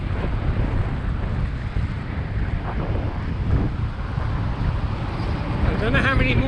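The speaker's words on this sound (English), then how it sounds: "9 degrees and a strong westerly wind." A strong, chilly westerly wind buffets the microphone outdoors, a constant loud rumbling roar that covers the whole stretch with some gusting swells.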